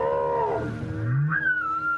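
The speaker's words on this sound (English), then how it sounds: "Echoes from an ancient culture draws the whales closer, and the distant sound encourages one whale to have a closer look." A whale calls in long, sweeping tones, first a falling moan and then a rising, thin, high whistle, heard alone and fairly clear.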